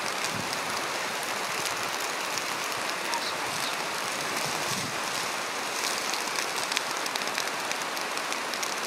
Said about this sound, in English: Minutes later, it started raining again